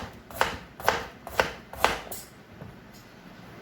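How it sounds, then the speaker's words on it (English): A knife chops through a carrot onto a cutting board, four crisp thuds in an even rhythm, then quiet. "this chopping is used for fried rice and noodles"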